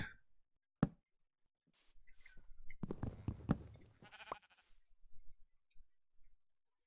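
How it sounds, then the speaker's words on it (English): A Minecraft sheep gives a wavering bleat in the middle, with a few sharp in-game clicks and thuds around it in otherwise quiet gameplay. "A sheep, how convenient."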